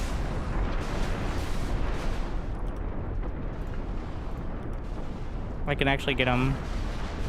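Mortars fire without letup in the RTS game Ashes of the Singularity 2, a dense rumbling barrage of booms and bursts that fills the whole stretch, with someone talking over the top.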